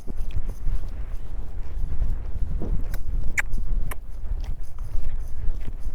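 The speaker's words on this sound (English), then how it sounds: "I just want to make sure that he will lope off." A horse lopes in training, its hooves thudding in a rolling, steady three-beat rhythm close by, muffled and continuous with occasional sharper scuffs.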